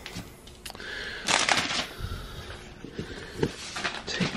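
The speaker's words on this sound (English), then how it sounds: "Pull that tape off like that" Painter's tape peels away from the edge of a glass aquarium tank in several short crackling, ripping bursts, close and moderately loud, with quieter rustling between pulls.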